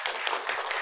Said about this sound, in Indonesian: Tepuk tangan untuk Bung Rido